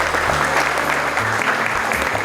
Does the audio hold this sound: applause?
yes